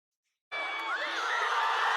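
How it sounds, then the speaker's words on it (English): Crowd in Buenos Aires cheering as Lionel Messi sets a World Cup record, a sudden loud swell of many voices starting after half a second of silence and holding steady with whoops and shouts. "Crowds reacting in Buenos Aires as Lionel Messi made more World Cup history."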